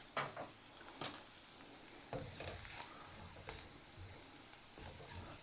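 Spices and fennel seeds sautéing in oil on a low flame for a Kerala-style white chickpea curry, a soft steady sizzle with intermittent stirring scrapes and taps nearby.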